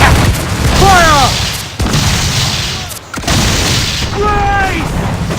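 Ship cannons boom in a naval battle in Assassin's Creed IV: Black Flag, heavy dull blasts among loud battle noise, with crew voices shouting over the din.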